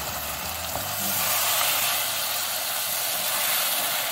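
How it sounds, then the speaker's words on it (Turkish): Grated tomatoes hit a pan of tomato paste frying in oil, setting off a steady, close sizzle and hiss that swells slightly after a brief thump, with no voices. "Şimdi 2 tane rendelenmiş domates ilave ediyorum."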